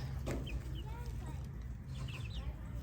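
Chickens cluck and peep softly in the background over a loud, steady low rumble, the bird calls faint and scattered.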